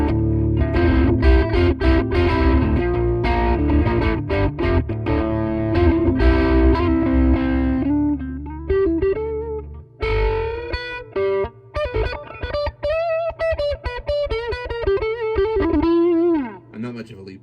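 Heavily distorted electric guitar through a Kokko distortion pedal with gain at maximum plays sustained power chords, then switches to a choppy, bending lead line with gritty, saturated tone.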